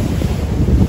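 Sea waves and strong wind buffet a boat riding through rough water off Montenegro, a loud, constant low roar of wind on the microphone with surging water underneath and no voices.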